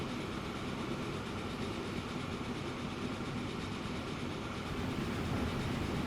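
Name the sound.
trains running on railway in Transport Fever 2 video game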